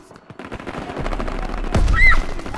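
Gunfire in the Call of Duty WWII game, a rising rattle of shots with a loud burst near the end and a short high whine, with no talking.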